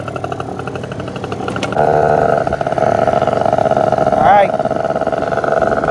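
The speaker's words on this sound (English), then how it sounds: "We're starting her up right now. We're just gonna give a full throttle." Vento Triton R4 motorcycle engine revving at full throttle close by, a steady loud drone that steps up in pitch and then sweeps higher in a quick rev, with someone speaking briefly over it.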